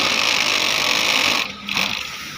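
Flatlock sewing machine running with three needles and three threads, a loud steady high-pitched whirring hum that dips briefly near the end before resuming.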